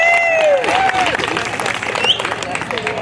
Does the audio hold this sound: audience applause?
yes